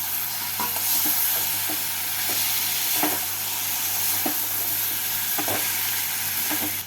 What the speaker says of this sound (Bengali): ঢেঁড়স আর আলুগুলোকে দিয়ে মশলার সাথে ভালো করে মিশিয়ে নেব